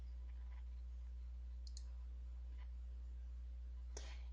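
A computer mouse clicks a few times, faint and close, with short sharp clicks scattered over a steady low hum and no talking.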